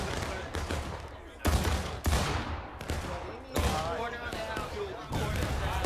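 Musket volleys in War of Rights, a Civil War game set at Antietam: several loud, sharp blasts burst out every second or two over a dense crackle of scattered rifle fire, with voices in the background.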